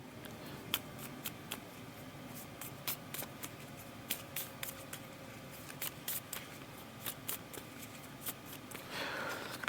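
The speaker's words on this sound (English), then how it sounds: "So I have to shuffle." A deck of cards being shuffled during a Legendary Encounters Matrix deck-building game, with a series of quick crisp riffles and snaps in short bursts, close and fairly quiet, ending in a longer rustle.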